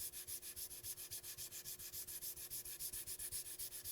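Sandpaper rubs back and forth over a lacquer finish in quick, even strokes, a steady close-up rhythmic scratching of roughly eight swipes per second with no voices.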